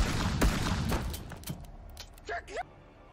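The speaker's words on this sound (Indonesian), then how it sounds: "Randall melompat ke tempat itu dan menembak anak buah Fox" Gunfire from an action film as Randall shoots Fox's henchmen: a few sharp bursts and thuds at the start, fading into quieter rumble, with a short voice-like cry near the end.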